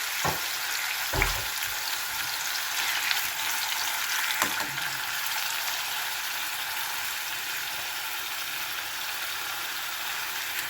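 Marinated pork, still partly frozen, frying in a pan with a loud continuous close sizzle, a couple of brief knocks near the start, and no talking.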